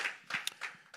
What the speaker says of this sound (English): So give God a hand clap of praise.